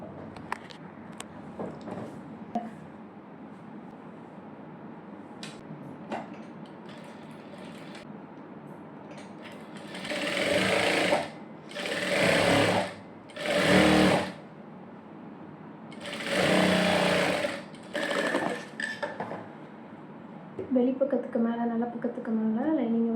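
A sewing machine stitches a princess cut blouse in several close, loud runs of rapid whirring, each lasting a second or two. Quieter talk comes before and between the runs, and a clattering patch follows at the end.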